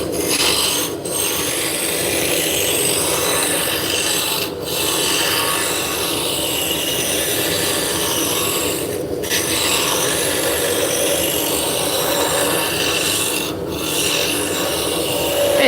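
A spindle gouge cutting wood on a spinning lathe gives a steady, loud rasping scrape that runs without a break. Brief dips come roughly every four to five seconds, and no one speaks.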